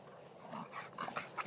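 Faint, high-pitched whimpers and soft yips from a puppy, a few short cries close by in quiet surroundings.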